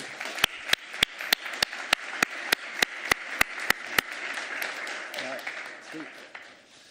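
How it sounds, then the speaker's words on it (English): A conference audience at an indoor event starts with sharp, evenly spaced single claps, then breaks into a softer, building wash of applause. "A huge round of applause, please."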